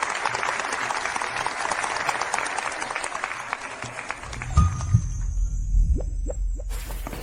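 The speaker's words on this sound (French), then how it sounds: "Applaudissons Aria Valois" Applause for world ballet champion Aria Valois fills the hall, a dense, steady roar of clapping that thins out toward the end, with a few scattered thumps and loose claps.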